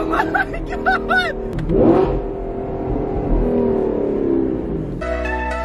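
An Audi R8 V8 fitted with a Frequency Intelligent exhaust revs, rising and falling in a loud, sustained roar that follows a few short, sharp sounds at the start.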